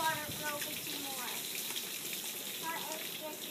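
Water runs steadily, filling a bowl with a faint, continuous splashing hiss, while a quiet voice talks softly in the background.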